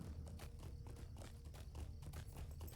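A horse's hooves clip-clop steadily in the online game The Lord of the Rings Online, a quick, even trotting rhythm heard faintly.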